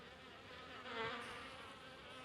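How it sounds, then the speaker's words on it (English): A dense swarm of bees, driven out with insect spray during a chateau renovation, fills the air with a continuous close buzzing hum that swells briefly in the middle. "There are a lot more bees than I thought there were."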